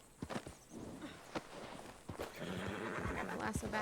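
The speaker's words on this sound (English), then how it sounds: "Get another paint horse out so I have a ride." A paint horse in The Tackroom video game whinnies loudly several times, with clip-clop hoofbeats and a few thunks alongside, close and clear.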